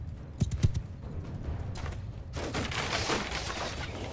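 Horses gallop through a Mount & Blade II Bannerlord battle: a dense rumble of hooves and clatter that rises and thickens halfway through, with a few sharp knocks early on.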